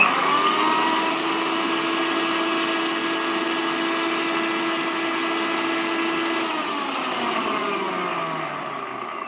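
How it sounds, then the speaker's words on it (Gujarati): A mixer grinder grinds spice masala in its jar with a loud, continuous motor whine. Partway through the pitch drops as it winds down. "અહીંયા મિક્સર જારમાં આપણે ચાલુ બંધ ચાલુ બંધ કરી અને મસાલાને પીસી લેશું"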